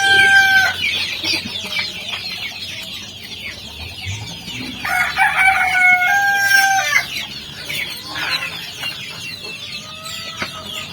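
Chickens cluck steadily around a backyard feeding area while a rooster crows several times, the crows rising clearly over the flock's continuous chatter at close range.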